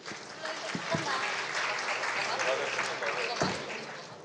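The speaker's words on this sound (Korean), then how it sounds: "박수로 맞이해 주시기 바랍니다" A conference audience applauds to welcome a speaker to the stage, a fairly quiet but steady patter of many hands continuing for several seconds with a few sharp thumps.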